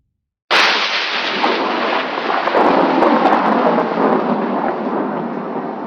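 A thunderstorm bursts in suddenly with a loud thunderclap, then a dense, steady wash of heavy rain and rolling rumble carries on for several seconds with no voices.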